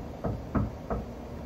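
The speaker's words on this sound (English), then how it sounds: "that's my daughter knocking on the door" Three distinct knocks on a door at home, evenly spaced and fairly close, standing alone against a quiet background.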